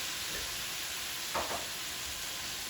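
Turkey sausage pasta sauce simmers in a pan with a steady, even hiss and sizzle. Near the middle there is a brief, slightly louder burst, probably from a stir.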